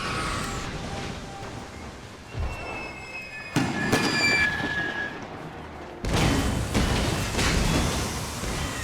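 Grenade blasts and battlefield gunfire in a World War I strategy game with Austro-Hungarian forces, a dense crackling din with sharp bursts near 3.5 and 6 seconds, sustained and loud throughout.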